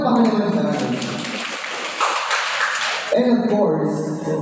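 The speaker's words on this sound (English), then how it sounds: "How about this start this morning with the biggest round of applause?" A crowd at a program opening breaks into a burst of applause that swells for a second or two between stretches of talk. A voice is heard before and after the clapping.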